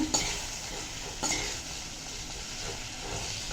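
Onions being stirred and fried in oil in a pan, with a steady close sizzle and a couple of sharp utensil scrapes against the pan near the start.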